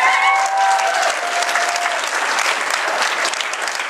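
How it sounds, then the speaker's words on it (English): Audience applause rising for a young man headed into the Army, a dense, steady wash of many hands clapping close and loud throughout, with a few brief whistles or cheers near the start. "Now let's clap."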